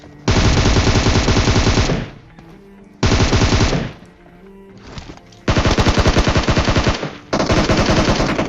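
Loud automatic gunfire in a battle royale video game comes in several long bursts of rapid shots, separated by short quieter gaps with faint background noise.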